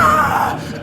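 A woman lets out a brief, loud scream as she lunges to attack, a single strained cry lasting under a second.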